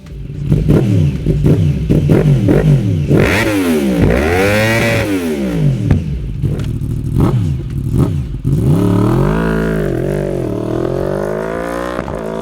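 A Yamaha YZF-R1 motorcycle with an Arrow Competition Evo full exhaust barks through a series of sharp throttle blips, then sweeps up and down in long, loud revs, close and alone.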